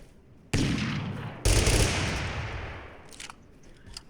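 Two loud, booming shots from an auto revolver in Totally Accurate Battlegrounds, each sharp blast followed by a long decaying rumble, with faint clicks trailing after.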